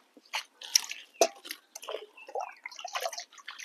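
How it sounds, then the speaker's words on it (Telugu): A bucket of water is poured onto a vermicompost bed, making close, intermittent splashes and drips with soft squishy bursts at a moderate level. "ఇప్పుడు నేను ఒక బకెట్ నీళ్లు పోస్తాను దీనికి."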